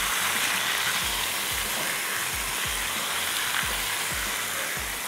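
Aloo tikki mixture seasoned with black pepper powder sizzles steadily in a pan, a dense continuous hiss with soft low thumps recurring every second or so as it is stirred.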